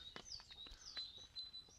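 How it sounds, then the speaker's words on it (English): Birds, including a robin, chirp and sing outdoors just after heavy rain, with quick overlapping calls at moderate distance and no talking. "Bloody birds are going mental."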